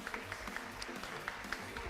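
A church congregation applauds, a soft steady patter of many hands clapping at a distance, brief and fairly even in level.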